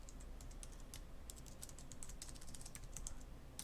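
Quiet computer keyboard typing while renaming an HTTP request in a Django REST API setup, with a soft steady run of key clicks over a hissy background.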